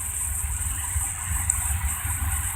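A truck engine idling at a truck stop, a steady low throbbing rumble with a faint high whine above it, close and continuous, with no one speaking.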